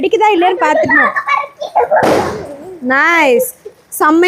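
Children set off firecrackers on Karthigai Deepam: a single sharp burst with a crackling tail rings out midway, surrounded by loud, excited children's voices talking and calling before and after it.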